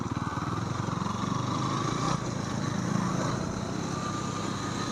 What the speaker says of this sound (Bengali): আমাদের ছাপড়ি ভাই ডিউক 250 নিয়ে চলো, আজ দুটো ডিউকের রাইড হচ্ছে।